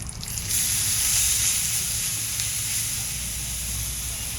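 Garlic thecha sizzles and fries in hot oil tempered with curry leaves and hing, a steady close crackling hiss that swells after a quiet start and holds throughout.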